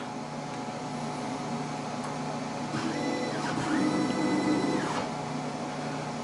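A QuickCircuit 7000 PCB prototyping machine mills a circuit board layer with a freshly changed tool, giving a steady mechanical whir with faint tonal hum and brief rising spindle sweeps, close and continuous with no talk.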